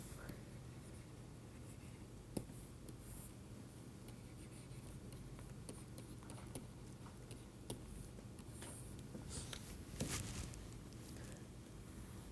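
A pen sketching a block diagram by hand during a lecture, a faint continuous scratching and tapping on a writing surface with occasional louder clicks, no talking.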